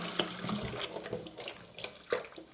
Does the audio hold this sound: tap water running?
yes